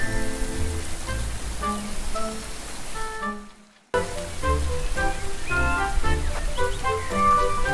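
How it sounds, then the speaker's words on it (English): Heavy rain hisses steadily as a dense, even wash, joined by sustained musical tones. It cuts out briefly partway through, then resumes at the same level. "the rain's only getting worse"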